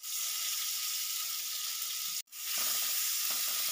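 Chopped tomato hitting hot oil tempered with black cumin seeds in a pan for a Bengali fish dish, a loud, steady sizzle that cuts out briefly mid-way and then resumes, close up with no talking.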